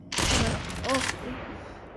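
Gunfire in the video game Call of Duty: a short loud burst of shots opening at close range, then a brief electronic tone and a fading tail.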